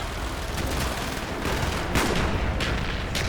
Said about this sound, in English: Firing mortars!